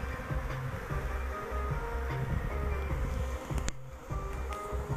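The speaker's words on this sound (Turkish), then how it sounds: "Yine arının yarısı beni saracak galiba." A honeybee swarm hums at a moderate level, a continuous droning buzz of many insects around a beekeeper waiting for it to settle on a branch, with no talk.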